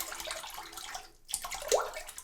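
RazoRock Mamba 70 razor sloshed and swished in a sink of water to loosen clogged shaving cream, a close, continuous watery rinse with a brief pause midway, then a few splashes.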